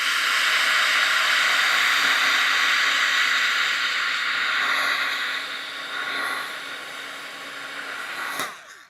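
A hair dryer blows a steady, close airy hiss over wet paint on a piece of soccer-themed mail art, fading slightly before switching off at the end.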